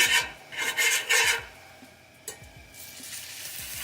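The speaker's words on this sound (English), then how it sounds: "Oh yeah, nice sizzling." Ground beef sizzling in a hot pan with fat, bursts of harsh crackling hiss interspersed with quieter stretches and occasional pops, close by.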